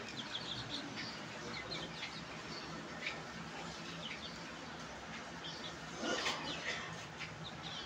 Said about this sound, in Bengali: এটা হচ্ছে লেয়ার খাসি মুরগি, আর এটা হচ্ছে ফার্মি মুরগি, এটা হচ্ছে কক মুরগি।